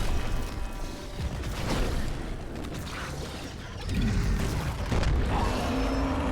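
A thrown explosive bursts in Dead Space Remake, a booming blast with a second heavy impact near the four-second mark, set among clanking mechanical noises and game effects, with no voices.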